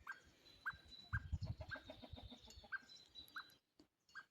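Birds calling in short repeated chirps at a steady rhythm, with scattered rustling and thumps underneath, fairly faint.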